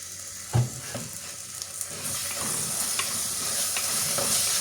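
Tomato sauce masala sautéing in a pan, with a steady sizzle and occasional scraping stirs, close up and without speech.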